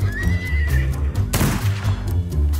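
A horse in a Wild West video game whinnies loudly over a steady low rumble, a short burst of noise cutting through midway, with no speech.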